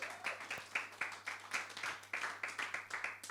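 A congregation at a church service claps in a steady rhythmic beat of many hands, loud and close, with faint crowd voices beneath.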